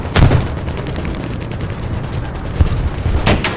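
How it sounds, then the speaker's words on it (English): Gunfire strikes a tank in War Thunder: booming impacts and heavy rumbling engine noise, with a sharp hit at the start, another midway and a final crack at the end, all close and loud. "somebody shooting at me"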